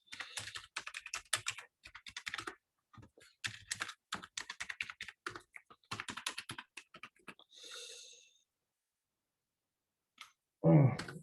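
Bursts of clicky computer-keyboard typing as a password is entered, quick irregular runs of keystrokes close by, broken by short pauses, a brief hiss and a loud thump near the end.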